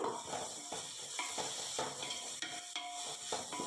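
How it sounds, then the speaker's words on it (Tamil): Onions and tomatoes sauté in a pan for chicken biryani: a low, constant sizzle under repeated rhythmic scrapes and clacks of a spatula stirring against the metal, with no voices. "நல்லா வதக்கி விட்டுருங்க வெங்காய தக்காளியும்"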